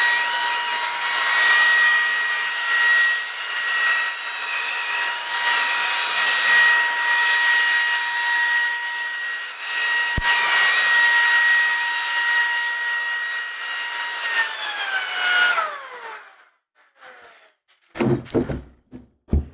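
A Ryobi One+ stick vacuum cleaning carpet runs with a steady high-pitched motor whine and airflow roar, then winds down and stops, followed by a few handling knocks.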